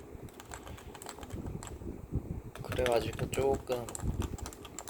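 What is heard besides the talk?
typing on a Topre Type Heaven 45g keyboard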